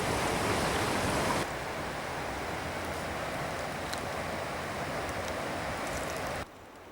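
Water cascades through the Strid, a narrow gorge of waterfalls and rapids on the River Wharfe, making a loud, steady rushing roar that carries on unbroken, then drops to a softer wash near the end.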